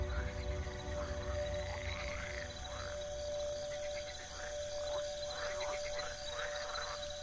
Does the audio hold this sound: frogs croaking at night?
yes